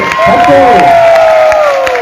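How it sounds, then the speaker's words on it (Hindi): A crowd at a training program in Lucknow cheers loudly and close by. A long, drawn-out whoop rings over scattered clapping and crowd noise for about two seconds. "अरे आप जबरदस्त ताली तो बजाइए प्लीज।"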